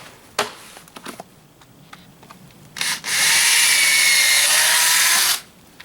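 Power drill driving a screw into a post protector: a few knocks and handling taps, then a loud steady whine for about two and a half seconds, close by.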